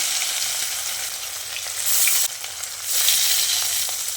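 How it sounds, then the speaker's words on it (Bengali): Marinated fish pieces dropped into smoking-hot oil in a pan, a loud dense crackling sizzle that swells as more pieces go in, with no voices over it. "তেলটা বেশ ধোঁয়া ওঠা গরম হয়ে এলে এর মধ্যে মাছগুলোকে দিয়ে দিচ্ছি"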